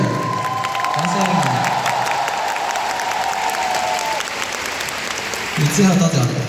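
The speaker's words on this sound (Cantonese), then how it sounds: "多謝我哋嘅 dancer，掌聲。" An audience at a live concert applauds the dancers, a broad wash of clapping mixed with some cheering that swells again near the end, with a sustained tone lingering underneath.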